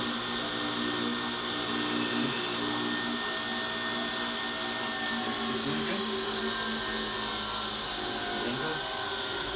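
A Tatro machine grinds motorcycle engine parts from a 1988 Harley FXR, a steady, loud whining motor drone with a constant high hiss that runs unbroken and close throughout, with no talking.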